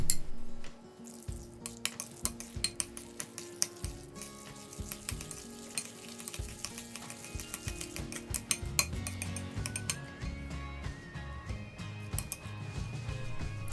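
Repeated clinks of a utensil against a bowl with soft wet squelching as stuffing with shiitake is stirred and mixed for stuffed bitter melon, steady and close.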